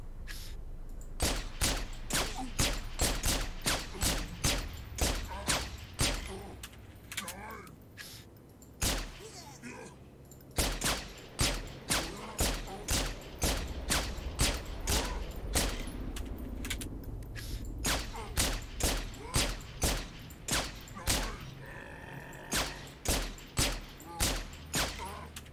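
Pistol gunfire in Halo 3: ODST, dozens of sharp shots in rapid irregular bursts with brief pauses, loud and close, mixed with game sound and occasional talk.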